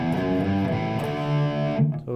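Distorted electric guitar plays a short climbing riff, thick sustained tone moving up through a few notes, close and loud, then cut off.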